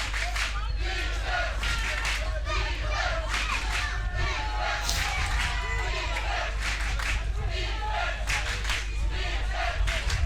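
Spectators cheer and shout throughout a Belgium versus France ultimate frisbee match, the crowd noise loud and continuous with scattered yells and some clapping.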